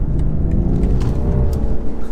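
A 2020 BMW M340i petrol engine pulls hard from low revs, giving a loud, continuous, close engine roar for about two seconds with no voices over it.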